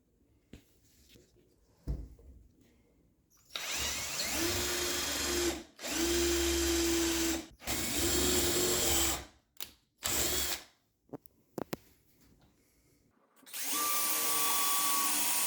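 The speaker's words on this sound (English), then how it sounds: "And we'll now just drill the holes." A power drill whines in several bursts of a few seconds each, drilling screw holes to mount inside-mount blinds, separated by short pauses and small clicks, close by.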